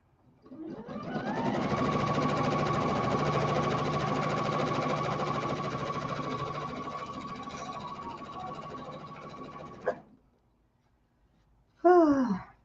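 A sewing machine stitches steadily for about nine seconds, its motor hum and needle rattle running close and even, then halts abruptly; after a short silence a brief sigh-like sound follows.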